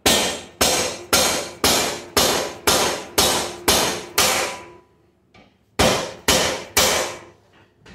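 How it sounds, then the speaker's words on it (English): A dead blow hammer strikes a bicycle frame hard in a steady series of about a dozen loud, dull thuds, a brief pause, then three more blows. "I'm using a dead blow and not like a steel hammer"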